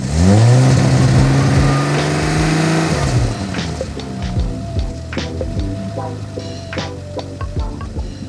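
A car engine is heard up close, loud at first as the revs drop, then settling into a rough, lumpy idle with uneven pulses and occasional stumbles.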